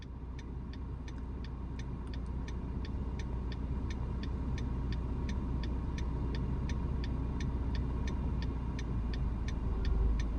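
A car engine idles and pulls with a steady low hum as the clutch is slowly released to move off, with a regular ticking, likely the indicator, running throughout. No one speaks.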